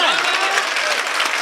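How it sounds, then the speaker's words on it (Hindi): Audience applause at a Hindi poetry recital (kavi sammelan) after a couplet, a loud, dense and continuous roar of clapping from a large crowd, close and unbroken for the brief stretch. "यार इस नाजुक शेर पे आपकी जो तालियां और जो दाद चाहिए थी मुझे"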